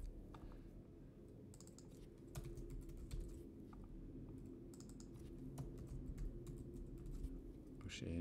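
Quiet keyboard typing on a computer while building a chart infographic in Canva, soft irregular key clicks in short bursts over a low background hum.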